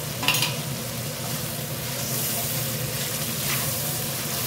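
Onion frying in a pan while being stirred, a steady close sizzle with soft scraping, all through and without voices, during the cooking of a pointed gourd do pyaza dish.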